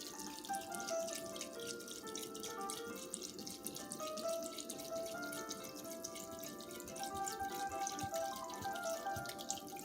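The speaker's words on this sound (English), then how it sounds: "So here I'm going to add a little water to this." Water runs steadily into a pot of homemade chicken soup, a continuous close splashing trickle with faint dripping, heard alone without talk.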